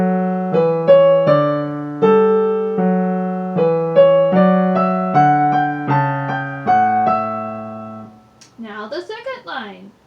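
Keyboard playing the first line of Bach's Marche, a steady sequence of clear two-hand notes in a walking rhythm for about eight seconds, followed by a brief spoken voice at the end.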